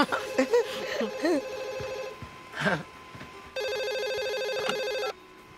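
A landline telephone rings with a steady electronic trill for about a second and a half, following earlier brief ringing bursts and scattered laughter and chatter in a hair salon.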